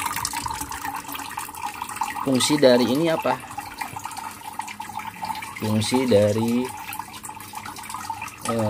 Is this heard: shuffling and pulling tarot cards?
no